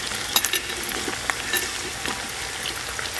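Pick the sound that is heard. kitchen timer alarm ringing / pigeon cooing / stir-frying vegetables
stir-frying vegetables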